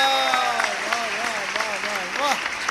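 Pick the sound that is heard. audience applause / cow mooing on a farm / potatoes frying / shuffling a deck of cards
audience applause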